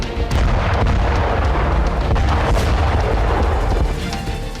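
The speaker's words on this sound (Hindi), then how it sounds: "रूस का यह ड्रोन 350 किलो का वॉरहेड ले जाकर धमाका करता है।" An explosion from a Russian drone strike in Kherson produces a loud, continuous low rumble, with crackling bursts and sharp pops scattered through the blast.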